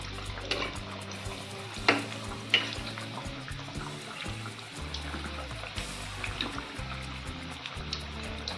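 Veggie tikki patties with colourful vegetables shallow-frying in oil in a pan over medium heat give a steady low sizzle with soft scrapes and a couple of sharp clinks, close and fairly quiet, with no talk.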